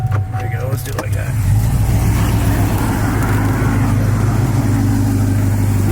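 A Whipple-supercharged 2020 Chevy Silverado 1500 RST truck revs hard nearby, its engine roar swelling after a second and holding loud and steady, with a person speaking briefly over it.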